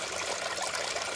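Water running into a smart water fountain during auto fill, a steady close rush of trickling, pouring water with an even hiss throughout.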